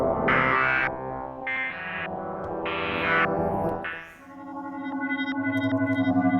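A cold, textural synth patch from an Ableton Live instrument pack plays in short bursts of bright, noisy, effected tones, then settles into a sustained note with a pulsing, shimmering tremolo.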